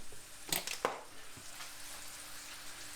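Mushrooms fry in a pan with a low, steady sizzle, broken early by a couple of sharp clattering stirs, close up and without voices.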